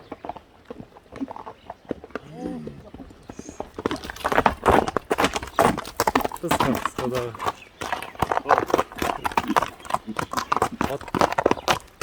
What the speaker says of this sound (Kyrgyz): атты көрүп турасыздар, жеңил